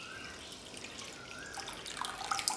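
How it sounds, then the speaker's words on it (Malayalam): Water poured into sugar in a pot while making homemade syrup, a steady stream of splashing and trickling that grows brighter and louder toward the end, with no talking. "ഞാൻ മൊത്തം 2 ലിറ്റർ വെള്ളമാണ് ഒഴിച്ചിരിക്കുന്നത്"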